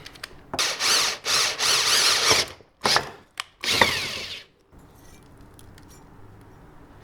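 A drill with a half-inch bit runs in a series of short, uneven bursts with ratcheting, grinding bites, then stops, leaving quiet room noise.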